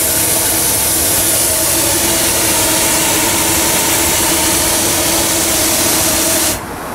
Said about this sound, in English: We're running a large steam engine.